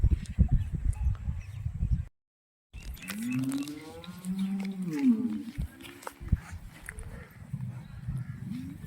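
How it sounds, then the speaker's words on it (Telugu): A black-and-white patched HF cross dairy cow lets out a drawn-out, rising and falling moo, close and fairly loud, after a brief silence and amid low farmyard noise. "బ్లాక్ అండ్ వైట్ ప్యాచెస్తో ఉన్న హెచ్ఎఫ్ క్రాస్ ఇది."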